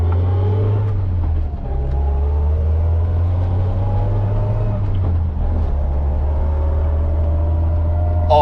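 An Austin Allegro's A-series engine runs steadily close by, a loud even low rumble with slight rises in revs, heard alone without talk.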